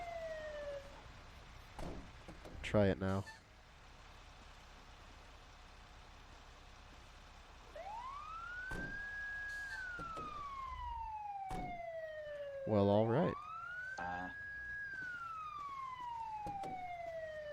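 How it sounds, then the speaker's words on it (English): A fire vehicle siren in a GTA roleplay game wails in long rising and falling sweeps, broken by short rapid yelping bursts, loud and near, with brief speech between bursts. "The siren comes on for me even if the lights are off."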